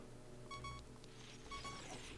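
Low-health warning beep from The Legend of Zelda: Ocarina of Time, repeating two-tone electronic beeps about once a second over steady game music and ambience, moderately loud and alone without talk.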